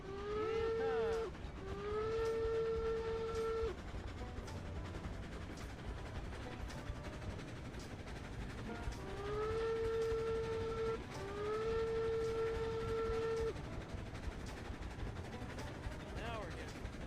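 Steam locomotive in the Railroads Online game pulling about 1,700 tons at full throttle, with a steady rumbling chuff under repeated long whistle blasts in two pairs, loud and close throughout.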